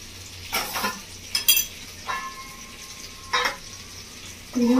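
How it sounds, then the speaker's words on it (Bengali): Giant river prawns fry in oil for a malai curry, with a soft sizzle broken by several sharp bursts of stirring and utensil scrapes against the pan, close and fairly loud. "মাছটাও ভাজা হয়ে গেছে বন্ধুরা।"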